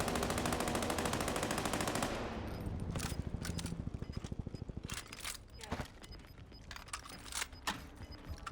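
Rapid machine-gun fire in the Warzone video game, a dense continuous burst for about two seconds, then spaced single and clustered shots, loud and close.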